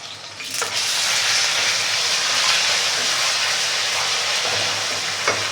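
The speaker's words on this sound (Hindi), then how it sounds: "अब एक पैन में मैंने लेना है आधा कप तेल और इसमें मैं ऐड कर दूंगी 2 टेबल स्पून लहसुन का पेस्ट" Garlic paste hitting half a cup of hot oil in a pan, a steady loud hiss of frying that holds evenly throughout with a few faint clicks.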